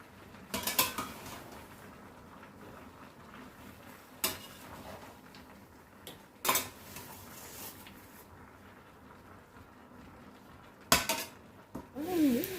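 Tomatoes cooking down for pickle are stirred in a pan, a spoon giving a few sharp scrapes and clinks against the metal between long quiet stretches, soft and close.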